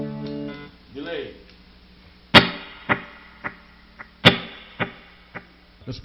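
Electric guitar through a Donner delay pedal: sharp single plucked notes each followed by fading repeats, a sparse rhythmic pattern of bright attacks decaying into echoes, close and moderately loud.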